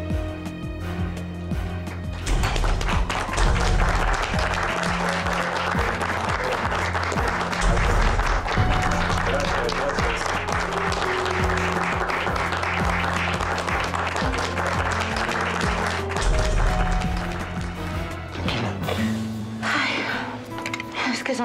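An audience applauds for a newly named chairman, Alejandro Miranda, in a Spanish-language telenovela scene; steady sustained clapping with low music underneath, fading near the end as a voice briefly speaks.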